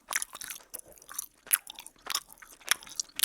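Thick gum chewed close to the mic in a whispery ASMR setting, with wet, sticky smacks and crunchy clicks coming in irregular bursts, nothing else heard.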